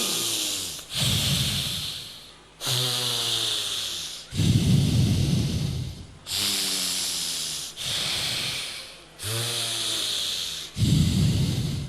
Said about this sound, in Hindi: अनुलोम विलोम